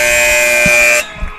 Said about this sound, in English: And Kyle, as that final buzzer sounds of the evening